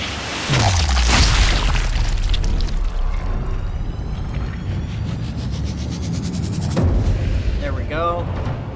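A sniper rifle fires in the video game Sniper Elite: Resistance, one heavy close booming shot with a long rumbling tail, followed by game sound effects.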